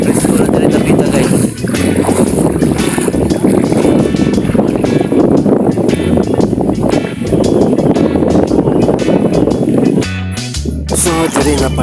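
Steady wind blustering over a river on the way toward the sea, a broad continuous rush with a boat's hum beneath, loud and unbroken before a brief dip near the end.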